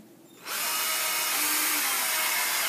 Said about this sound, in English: We take the drill, put it down like this, start it up